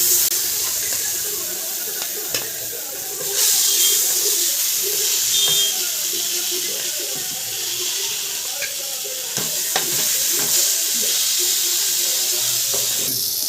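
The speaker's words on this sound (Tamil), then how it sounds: "இப்போ வந்து நம்ம ஒவ்வொரு மீனாக வந்து போட்டு வறுத்துக்கலாம்" Vanjaram fish pieces frying in a little oil in a pan, a steady close hiss with brief louder sizzling bursts as pieces go in, alone without talk.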